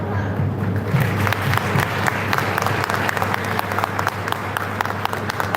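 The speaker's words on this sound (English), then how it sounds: "Please join me in giving a big round of applause." Audience applause after a presentation at an international engineering conference, crisp hand claps of a moderate-sized crowd over a low steady room hum, with a faint voice near the start.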